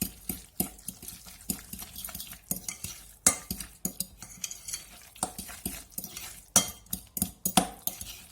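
A spoon stirring and scraping through grated carrot salad dressed with vinegar in a bowl: rapid, irregular clinks and wet scrapes repeating steadily, close and moderately loud, with no talk.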